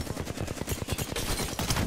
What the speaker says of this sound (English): Sean, he's literally shooting me through the wall.